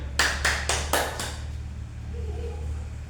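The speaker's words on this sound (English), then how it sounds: "now applause for group 3 and Anya" A class applauds a presenting group during an English lesson, a short run of about four sharp, loud claps in quick succession that stops abruptly, leaving a quiet room with a faint hum.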